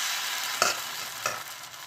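Thin chakli pitha made from parboiled rice flour fries in hot oil with a steady soft sizzle, broken twice by brief scraping stirs of a spoon; no voices.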